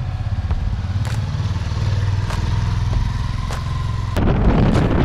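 A motorcycle cruising on the highway from Pune to Mumbai in the early morning, its engine droning steadily up close under rushing wind, with a few faint clicks and a rise in rumble near the end.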